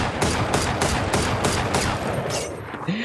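Rapid gunfire in Valorant while the player moves, about ten loud shots in a fast steady rhythm with a dense low rumble between them, no voices.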